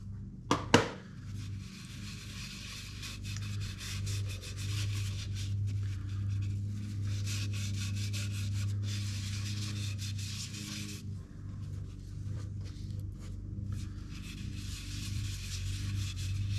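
Abrasive paste being rubbed by hand with an old cotton sheet onto a dyed maple vase, a steady soft scrubbing under a constant low lawnmower drone from a neighbour's yard, with a couple of sharp taps near the start.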